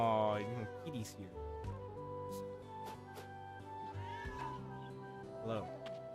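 A house cat meows repeatedly up close, a string of tonal, wavering cries of varying length with brief pauses, faint voices occasionally in the background.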